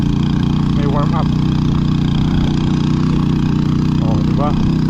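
A motorbike engine runs loud and close with a steady, throbbing drone on a group ride in Tarlac, with faint voices briefly in the background.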